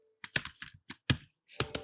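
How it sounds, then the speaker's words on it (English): Computer keyboard clattering as C++ code is typed, a quick uneven run of about a dozen crisp key clicks in short bursts with a brief pause, close and clear, no talk. "I will simply erase it, and then I'll start coding it out."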